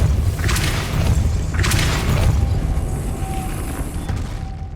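A Depulso force spell fired in the video game Hogwarts Legacy, two loud whooshing blasts with booming impact in quick succession, over a constant low rumbling game background.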